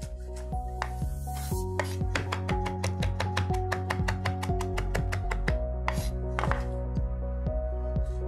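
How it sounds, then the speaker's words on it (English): A knife chopping fresh parsley on a cutting board in a cooking class, producing quick, regular rhythmic taps that speed up into a rapid run, heard over steady background music. "To begin, we're gonna get some parsley. We're gonna chop this up."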